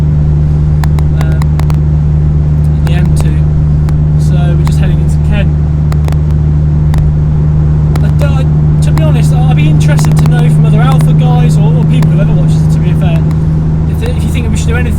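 Alfa Romeo 147 GTA with its Busso V6 drones steadily from inside the cabin while cruising on a motorway, a constant low engine hum with road rumble underneath and someone talking over it throughout.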